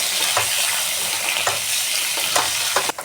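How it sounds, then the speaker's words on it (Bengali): Large-cut potatoes frying in mustard oil with dried red chilli, torn bay leaves and a pinch of asafoetida, a steady close sizzle broken by several soft scraping stirs, with no talking. "ভালো করে লাল করে ভেজে নিতে হবে"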